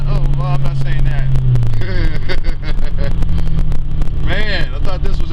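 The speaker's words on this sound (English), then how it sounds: "This is the test drive in the Honda." A 1991 Honda Civic SI with a ZC engine drives on wet streets during a test drive, its engine droning and revving steadily and loudly beneath people talking inside the car.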